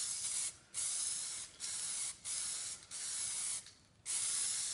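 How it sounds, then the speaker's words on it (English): An aerosol can of auto primer sprays in long hissing bursts broken by brief pauses, about five blasts in a row, close to the mic with no talking. "So now I'm just going to use some auto spray."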